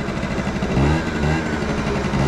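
A 50cc motorcycle engine revving as the throttle is worked during a wheelie, a close, buzzing drone that swells and falls in short pulses with no talk over it.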